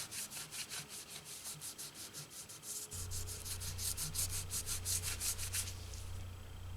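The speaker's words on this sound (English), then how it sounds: "I clean with naphtha." A guitar body rubbed clean with a naphtha-soaked cloth in steady, rhythmic back-and-forth strokes, close and fairly loud, with a low hum joining in halfway through.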